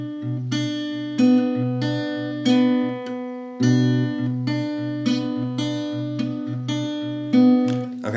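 Guitar strumming the chorus chord shape of a song, with a fretted chord rung out in a steady rhythm of roughly seven strums, close and clear, no voice.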